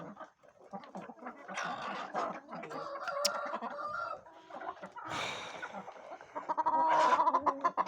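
Several chickens, including an Arap hen, cluck and chatter nearby, with a few sharper squawks rising toward the end; a dog may be faintly audible too.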